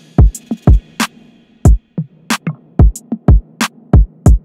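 The full chorus drum pattern of a hip-hop production sounds loud and dry: punchy kicks, snappy claps and crisp hi-hat ticks in a steady, syncopated groove.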